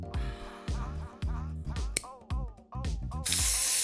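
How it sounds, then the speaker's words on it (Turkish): Music plays with percussive hits, then a loud, steady hiss of white spray paint being sprayed onto a miniature lamp base bursts in near the end. "Lambamızın ayaklığını beyaz sprey boyayla kaplayalım."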